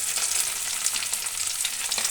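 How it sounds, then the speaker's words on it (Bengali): Potatoes sizzle steadily in hot oil in a frying pan, a close, even hiss with small crackles and no voices. "আলুটা ভাজা ভাজা হয়ে গেছে।"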